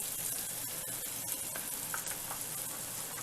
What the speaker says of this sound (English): we're going to take that garlic butter and throw in some onions